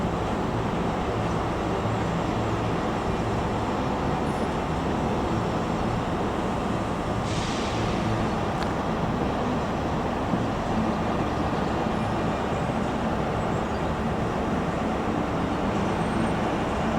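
Scotrail class 385 electric train departing Edinburgh Waverley station, a steady, loud rumble and hum of the moving train that holds throughout, with station background noise.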